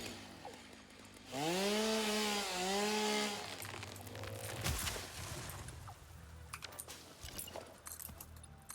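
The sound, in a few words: chainsaw cutting in the video game Satisfactory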